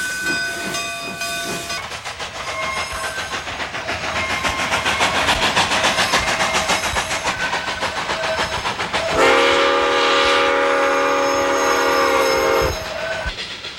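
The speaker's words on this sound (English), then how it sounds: "These authentic narrow-gauge steam-powered trains carry thousands of visitors annually" A narrow-gauge steam train on the Cumbres and Toltec Scenic Railroad in the southern Colorado mountains chuffs and hisses loudly, then its whistle sounds for several seconds near the end.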